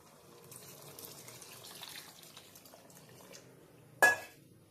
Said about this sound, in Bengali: এর মধ্যে দিয়ে দেব পরিমাণ মতো জল।